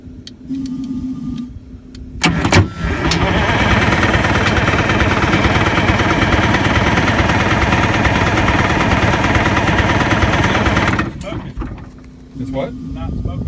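A GM PD 4106 bus engine starts up and idles loudly and steadily for several seconds, then cuts off abruptly, with quieter background sounds before and after.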